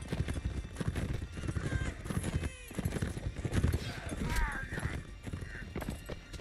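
Cavalry horses of a horse guard in a Napoleonic Wars battle game pound along in rapid, overlapping hoofbeats, with whinnies breaking through and someone talking over the clatter.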